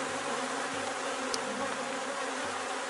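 Honeybees hum in a steady, low drone at an open hive while a colony is being split and queens raised, continuous and close throughout with no talking.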